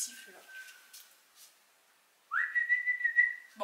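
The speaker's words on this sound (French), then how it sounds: "Qui c'est qui siffle là?" A person whistling nearby, a faint held note at first, then after a short silence a louder sustained tune with a rising start and slight wavering, heard alone without talking.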